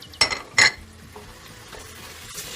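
Tomato paste and butter sauté in a pan while being stirred: two sharp metallic clinks of a utensil against the pan open the sequence, followed by quieter scraping and faint stirring noises.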